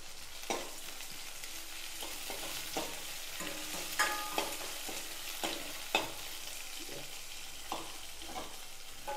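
Onions sautéing in a pan for a spicy dried-chilli chutney, with a steady soft sizzle and intermittent scraping strokes of a spoon stirring through them, close and alone without talk.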